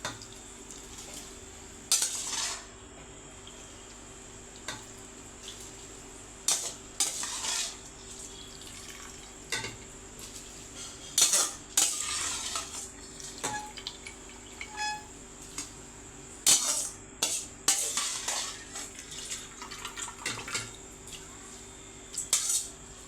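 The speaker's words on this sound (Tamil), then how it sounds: "லைட்டாக ஒரு கிண்டி விட்டுக்கோங்க." A spoon stirs basmati rice in a pot of boiling water, giving repeated scraping and clinking knocks against the metal at an irregular pace, close by, over a low bubbling hum.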